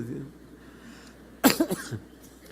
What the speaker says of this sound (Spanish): a ver si se me quita la tos